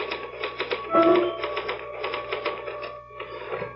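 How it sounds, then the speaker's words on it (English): Rapid irregular clacking of old manual typewriter keys in an old-time radio mystery drama, with a brief carriage bell ding near the middle and a steady background hum throughout. "Can I use the typewriter for a moment?"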